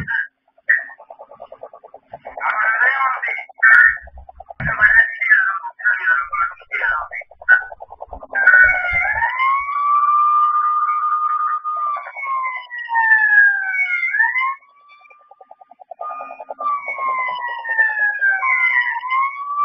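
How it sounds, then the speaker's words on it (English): Loud electronic security sirens on a property anti-theft system cycle through wailing, yelping and warbling patterns, close and continuous, changing tone every few seconds. "didn't come back again due to the sounds of our sirens"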